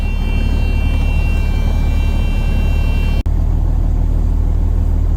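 An old cabover semi truck idling after a cold start, a steady loud diesel rumble close by with a brief dropout partway through and no voices.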